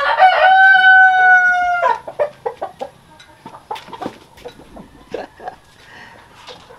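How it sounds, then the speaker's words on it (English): Free-range Siam-crossbreed chickens with a Rhode Island rooster: one long, loud crow opens, followed by a run of short, close clucks, with a brief word spoken. "Siams are wild chickens."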